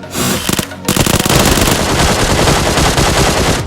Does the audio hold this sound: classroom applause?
no